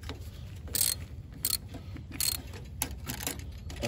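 Mechanical clicking and ratcheting from fasteners being tightened on a John Deere LA125 lawn tractor, with repeated short bursts of metallic clicks over a low steady hum, close and moderately loud.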